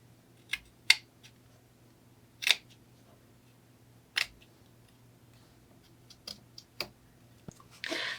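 Scissors snipping excess fabric off a small doll outfit, a handful of sharp, isolated close-up cuts spaced irregularly over a quiet background.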